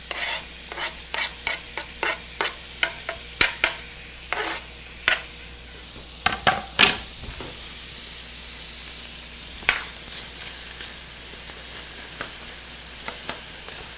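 Lobster and green onion being stirred into a pan of mac and cheese, with a rhythmic series of wet stirring scrapes over a low steady hiss that fade out about halfway through, leaving only the hiss.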